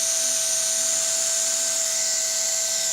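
A hot air welding gun blowing steadily while welding a roofing pipe boot, a constant close whirring hiss with a thin whine, unbroken throughout.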